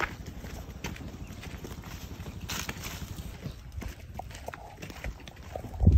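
Oxen hooves walk home along a farm path in a steady, close clip-clop rhythm over faint outdoor background noise.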